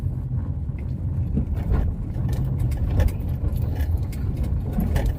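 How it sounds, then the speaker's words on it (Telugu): A lorry on the newly opened Vijayawada bypass road amid construction work, a loud, steady low engine rumble and road noise passing close by, with no talking. "ఒక లారీ వస్తుంది"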